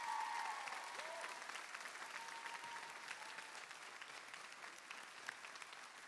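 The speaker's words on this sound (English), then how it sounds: "Round of applause, please, for the Reinhardts." Theater audience at a Ross Music Theater performance of The Music Man applauds the Reinhardts, a steady, fairly distant wash of many hands clapping that holds evenly throughout, with a faint brief tone early on.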